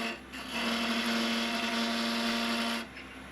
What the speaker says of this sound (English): So I've switched over to my bigger skew here, and I'm just getting those final refinements to really get it nice and smooth